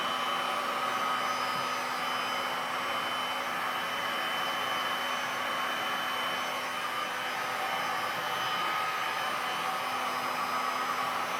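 A heat tool blows hot air across a resin painting on a 2 ft by 4 ft canvas, giving a steady, even whirring hum with a faint tonal whine that runs unbroken throughout, with no talking.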